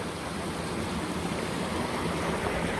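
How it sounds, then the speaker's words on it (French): A small stream and waterfall among vineyards, a steady broadband rush of running water, close and constant with no voices. "un petit ruisseau, rivière, cascade"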